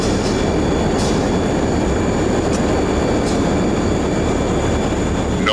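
Steady, loud broadband roar of a jet airliner taking off, unbroken for several seconds with a slight rise in pitch near the end, heard alone without voices.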